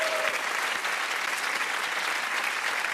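A French late-night talk show's studio audience applauds steadily, a dense, even wash of clapping that holds at the same level throughout with no voices on top.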